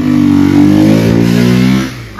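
A motorcycle ridden nearby by an older man trying out a friend's bike, its engine humming steadily and revving slightly before easing off at the end, with no talk over it.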